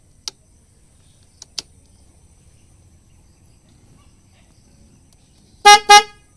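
A few faint clicks sound early on, then near the end a Yamaha NMAX scooter horn blares two short, loud honks in quick succession.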